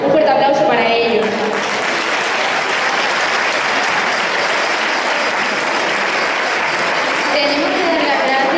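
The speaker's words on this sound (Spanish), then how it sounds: "Un fuerte aplauso para ellos." A crowd at a children's and youth folk festival claps loudly for folk dance and choir groups, a thick sustained burst of applause, with a voice over it at the start and again near the end.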